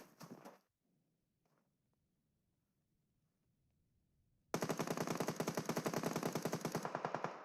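Rapid automatic gunfire from a battle royale video game match, a dense sustained burst of shots kicking in loudly after a near-silent stretch, with a brief earlier burst at the start.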